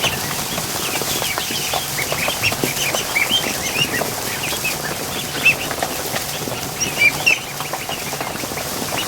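Ducks and ducklings crowded in a duck barn, a busy close chorus of soft peeping, quacks and rustling with scattered brief louder calls and flutters, no talk.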